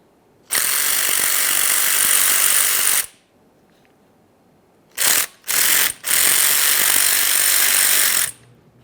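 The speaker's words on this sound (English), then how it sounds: "let's remove our 2 T27 Torx screws" A power ratchet or driver zips out two T27 Torx screws from an air suspension compressor bracket of a 2011-2021 Jeep Grand Cherokee on a bench. It gives one long loud buzz, two short bursts, then another long run.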